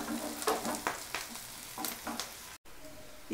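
Curry leaves frying in a pan of oil for a prawn fry, a faint sizzle broken by scattered stirring scrapes and light taps, with a brief dropout near the end.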